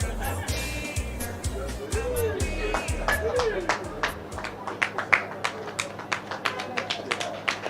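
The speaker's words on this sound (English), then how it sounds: "Round of applause once again, ladies and gentlemen, for the winner of the UHC naming and logo competition" An audience at the UHC naming and logo unveiling ceremony applauds the competition winner, scattered claps growing into a brisk round of clapping over a low, steady rhythmic backing, with crowd murmur underneath.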